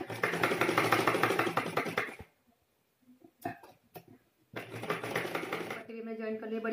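A sewing machine stitches a kurta placket in two bursts of rapid, even clatter, close and loud, separated by a quieter pause with a few faint knocks.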